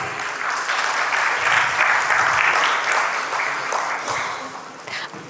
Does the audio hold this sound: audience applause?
yes